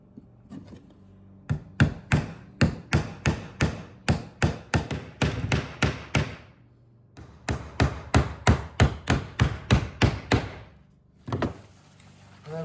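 Hammer taps a small tack into thin strips of ordinary two-ply plywood, a steady run of about two dozen sharp, close blows in two bursts with a brief pause between, then a couple of final knocks.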